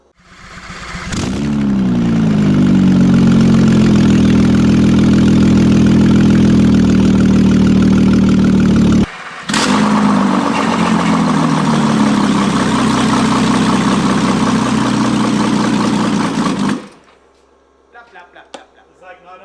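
A VW Amarok fitted with a 6.0 V12 TDI diesel engine runs loud and close at a steady idle, cuts out briefly and restarts, then dies away at the end.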